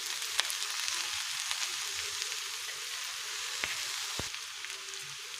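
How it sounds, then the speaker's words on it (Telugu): Shredded cabbage frying in a pan while being mixed, a steady, even sizzle throughout with a few faint scraping stirs, quiet and close. "క్యాబేజ్ మొత్తం కలిపేస్తున్నాం కదండి."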